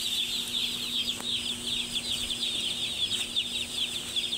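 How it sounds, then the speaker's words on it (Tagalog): Many young pet chicks on a farm with a flock of about 35,000 birds, cheeping and clucking continuously at moderate distance over a steady background hum. "papakita ko sa inyo yung alaga kong sisiu"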